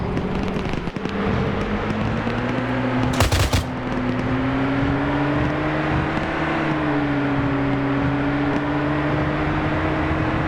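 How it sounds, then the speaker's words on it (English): A heavy gun fires one short, loud burst during a military video game, standing out over a steady, droning vehicle engine that continues throughout. "Some kind of heavy gun to the south"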